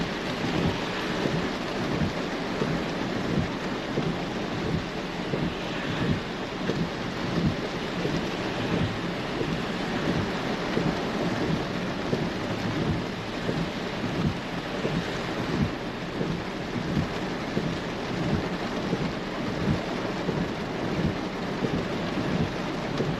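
Heavy rain downpour with rolling thunder, a dense, constant roar of rain drumming steadily throughout, with low rumbles underneath and no voices.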